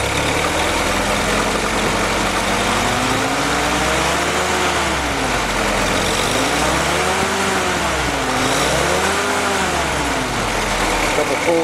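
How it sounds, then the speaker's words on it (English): A Willys M38 jeep engine idles steadily and smoothly on its original carburetor, its low rumble holding an even pitch with slight wavering, no voices over it. "Carb is running nice and smooth."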